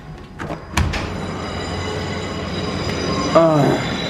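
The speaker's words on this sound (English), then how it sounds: "I can hear this train station 24 hours every day." Trains at a nearby London station rumble steadily, with a couple of clunks early on and a brief high wheel squeal near the end, heard from a short distance.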